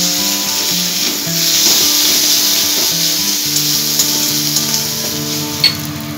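Spices sizzling and being stirred in a pan over lowered gas heat for a Bengali fish roe fritter curry, a steady close fry with a low hum and faint scraping running throughout.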